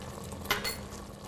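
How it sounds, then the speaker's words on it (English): Food with red chilies, ginger and garlic is stirred in a hot cooking pan: a steady close sizzle with one brief scraping swish of the utensil through it. "Give it a bit of stir again"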